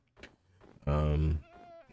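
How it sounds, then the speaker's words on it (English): Goat bleating in Minecraft, a single loud, drawn-out bleat lasting about half a second, set among quieter game sounds before and after. "But yeah, goats."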